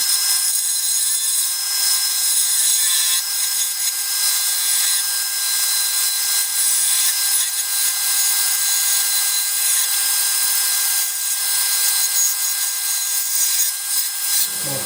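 Cherry wood being turned on a lathe to slim down the diameter of a corkscrew handle, producing a steady, loud, hissing scrape of the tool cutting the spinning wood with no pauses or voices.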